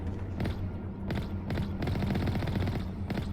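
Rapid machine gun fire in the video game Mass Effect, a dense continuous stream of bursts with fast rhythmic thuds at steady moderate volume throughout.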